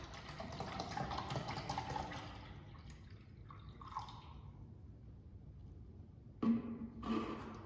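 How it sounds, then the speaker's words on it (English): Water, 500 ml of it, pours into a 1 litre beaker with a soft, fairly faint splashing trickle that tapers off, then a couple of brief louder knocks near the end. "let's put our 500 milliliter water into this 1 liter beaker"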